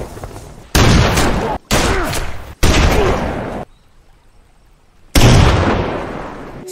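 Gunfire from a film shootout in a forest, loud bursts of shots and blasts in several dense volleys separated by brief pauses, with one longer quiet gap before a final burst.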